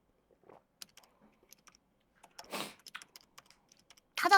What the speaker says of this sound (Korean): 타자 소리가 조금 거슬리시겠지만 열심히 하세요.